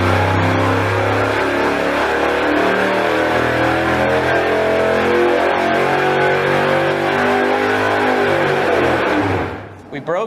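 A rebuilt car engine, freshly repaired after blown head gaskets and strapped down for testing, runs loud and steady with rising and sustained revs for about nine seconds before it cuts off abruptly.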